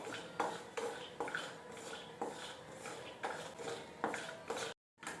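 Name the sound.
roasting almonds in a pan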